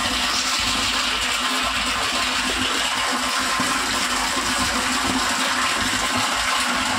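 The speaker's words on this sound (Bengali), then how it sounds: "সাবমার্শালে চালিয়ে দিয়েছি, জল পড়ছে, ভর্তি হচ্ছে" Water from a submersible pump pours steadily into a water tank, a constant loud rushing splash with a low mechanical hum beneath it.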